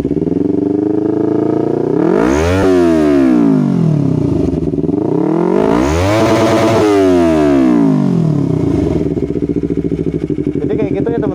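A Yamaha R25 motorcycle with a DSM Racing exhaust is revved hard twice, each time rising sharply to a high scream and then falling back to a throbbing idle, loud and close.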